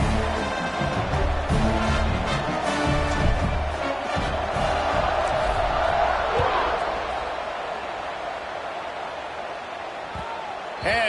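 Stadium crowd at an NCAA football game roars steadily just before kickoff, a loud dense wash of cheering that eases slightly toward the end, with a commentator talking over it.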